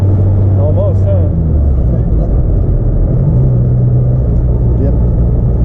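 A classic right-hand-drive Austin Mini idles and pulls along in second gear after a downshift, a steady low engine drone filling the cabin with a slight pitch change as it moves.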